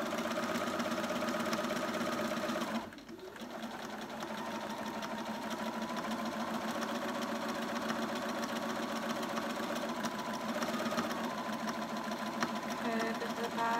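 A sewing machine stitches a fabric peg bag, running with a steady fast mechanical whir and rhythmic needle chatter, briefly pausing near the start before resuming continuously, close and prominent.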